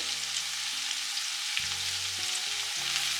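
Sliced onions with salt sauté in a pan for a Thalassery-style mussel biriyani, making a soft, continuous sizzle under steady tonal music that shifts notes throughout.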